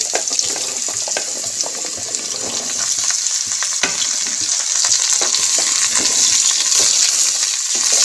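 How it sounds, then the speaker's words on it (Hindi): Potatoes and pointed gourd frying with spices and a pinch of asafoetida, producing a loud, dense, continuous sizzle with stirring scrapes. No voices are heard. "इसी के साथ आप आलू और पटल को डाल करके फ्राई कर लीजिए।"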